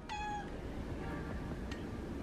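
A cat meows at close range, first with one drawn-out cry, then with a couple of shorter, fainter calls over a low, steady room hum.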